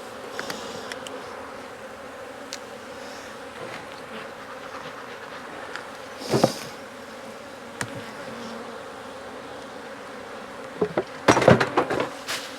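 Dense, steady buzzing of many honeybees swarming around an open hive in a Jacksonville, Florida apiary, filling the whole stretch, with a few sharp knocks and clatters of frames and a dropped smoker close by.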